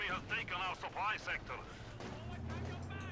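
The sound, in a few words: grenade explosion in Company of Heroes 2 video game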